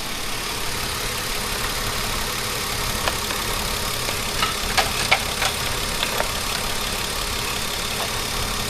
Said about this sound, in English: I keep engine running and going to check the level